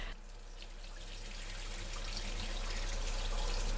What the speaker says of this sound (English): you just have to rinse these lentils because they're dirty